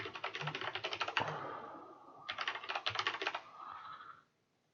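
Rapid computer-keyboard typing during a coding session, in two dense bursts of keystrokes separated by a brief pause, then falling silent at the end.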